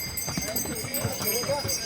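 Horses' hooves clip-clopping in a quick uneven rhythm close by on a Char Dham pilgrimage trail, with people talking over them and a faint tonal hum in the background.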